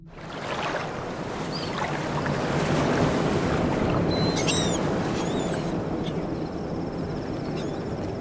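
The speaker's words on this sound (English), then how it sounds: "we are in a giant tree in the middle of the ocean" Ocean waves wash around a giant tree in the middle of the sea in Myst III: Exile, a broad rushing surf that swells and holds steady, with faint bird-like chirps high above.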